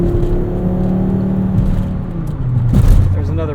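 A Volvo 850R engine revs up under hard acceleration, its pitch rising steadily, then drops sharply at a gear change before climbing again, loud and close.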